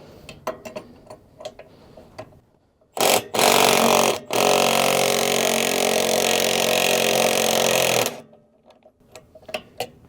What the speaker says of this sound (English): I have my 1/2 inch impact with an 1 1/8 socket on it